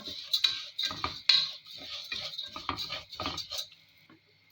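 Vermicelli being stirred in a pan, a spoon scraping and clinking against the metal in a quick, irregular rhythm, close and fairly loud, with no one talking.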